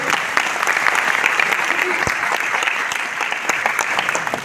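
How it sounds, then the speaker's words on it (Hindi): Hearty applause from a seminar audience at a success celebration event in Delhi, a dense, steady wash of clapping hands filling the room for several seconds. "चलिए एक बार जोरदार तालियां इनके लिए।"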